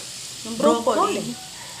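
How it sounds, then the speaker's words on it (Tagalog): Vegetables, including broccoli, being sautéed in a hot pan: a burst of sizzling and frying hiss swells for about a second alongside a stirring scrape, close and fairly loud, then settles back to a low hum. "Parang gisa-gisa lang saglit."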